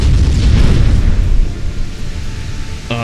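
A 4.9-inch shell strikes a ship in the naval warfare game Ultimate Admiral Dreadnoughts, giving a loud, deep boom whose low rumble rolls on and slowly fades, with no voices over it.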